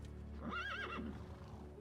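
Horse in World of Warcraft gives a single clear whinny, a rising then wavering neigh about a second long, close and moderately quiet over a faint steady game background, with no speech.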